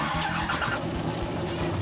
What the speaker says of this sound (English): fire those cars up